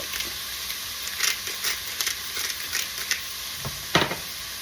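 Shrimp stirred in a hot pan, a utensil scraping and clacking in short irregular strokes over a steady close sizzle of frying, with no talking.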